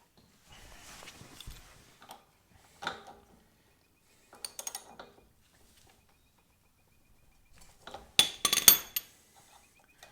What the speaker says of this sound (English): Going to undo this bolt here, which is a 19mm.